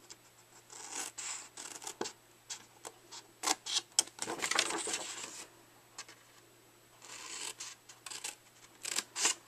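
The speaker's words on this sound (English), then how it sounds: "I'm going to cut up along the edge to that 1 1/2 inch score line" Scissors cutting cardstock up to scored fold lines while making a paper gift bag, a series of close, quiet snips and rustling paper strokes in short bursts with pauses between them.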